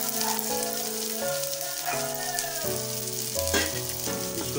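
Chilli, garlic, ginger and onion sizzle in a hot pan, a loud, continuous close frying crackle with stirring scrapes, while musical tones play alongside.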